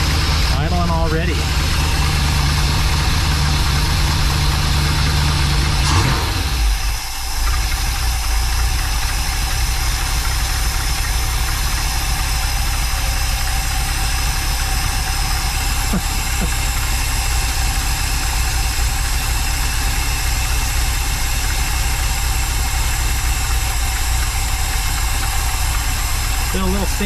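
A Mopar car engine with a rebuilt carburetor idles steadily and loudly, a constant rumbling drone with a brief dip early on, and a voice talks over it.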